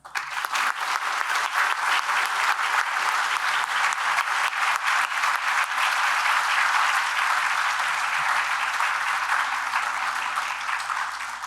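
Loud, sustained applause from a large audience at an annual meeting, welcoming a general to the stage, with dense continuous clapping and no voice over it.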